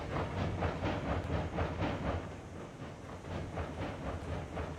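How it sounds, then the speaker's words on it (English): A heavy train in RAILROADS Online rolls along the rails on a grade, a steady loud rumble with faint rhythmic clicks, continuous and without voices. "But it's a heavy train"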